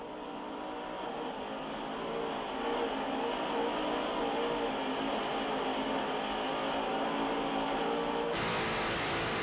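A Mercury-powered 46-foot Skater racing boat roars steadily from onboard, its engine a continuous loud drone that swells slightly, then shifts abruptly in tone near the end.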